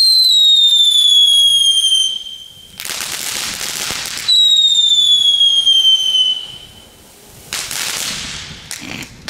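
A Thunder King consumer firework goes off loudly nearby: twice a high descending whistle ends in a dense burst of crackling, followed by a final smaller crackle.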